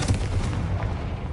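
A Confringo fire spell from Hogwarts Legacy bursts in a loud, heavy boom, with a couple of quick blasts up front and a rumbling tail that fades.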